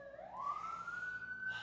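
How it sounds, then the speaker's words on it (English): An emergency vehicle siren wails, sweeping upward and then holding a loud, steady high tone for under two seconds. "Oh, the sirens are unbearable sometimes."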